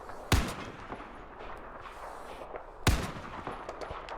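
Two sharp, loud sniper rifle shots in the Battlefield 4 video game, about two and a half seconds apart, each with a sudden crack and a rolling echo over a low battlefield rumble.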